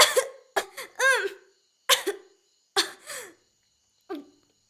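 A person coughs in a series of sharp bursts spread over several seconds, some in quick doubles and others on their own, each followed by a quiet gap, with the last cough a little fainter.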